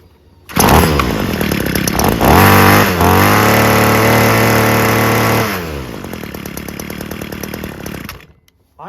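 A Ryobi weed trimmer with a replacement carburetor revs loud and buzzy up close, the pitch climbing and holding, then dropping to a steady rattling idle before cutting off.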